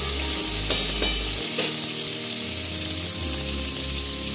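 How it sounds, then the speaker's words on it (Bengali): Potatoes and flat beans fry in hot oil for a spicy Amodi fish curry, a steady close hiss of sizzling throughout, broken by a few sharp clicks and scrapes of stirring early on; no voices. "এটা ভালো করে ভেজে নেব।"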